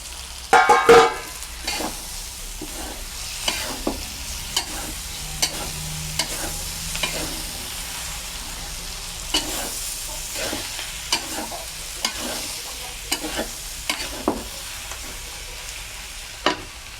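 Small bitter gourds (karela) frying with red chili and spices, stirred in a pan: a sharp clatter at the start, then a steady sizzle broken by regular scrapes and taps of the spoon, close and without speech.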